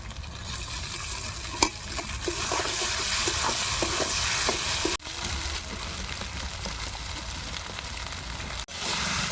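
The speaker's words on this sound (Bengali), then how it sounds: "সিদ্ধ করা চাউমিনগুলো দিয়ে দেবো।" Boiled chowmein noodles are tossed and stir-fried in a kadai, giving a close, continuous sizzle with repeated scraping stirs and a few sharp knocks, and no voices.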